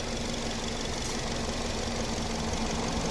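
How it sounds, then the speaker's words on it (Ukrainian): A 2008 Nissan Qashqai+2 Tekna's 2.0-litre petrol engine idles close by, a constant low hum with a faint mechanical rattle running evenly throughout, no voices. "Ось робота двигуна."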